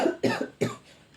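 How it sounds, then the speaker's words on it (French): A person coughs three times in quick succession, close and fairly loud, each cough a short burst followed by a faint breathy tail. "T'as vu, je tousse encore et tout."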